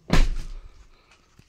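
A heavy door of a Lexus LX470 SUV with sound-deadening insulation fitted slams shut once, giving a single loud, close thunk that quickly decays into quiet.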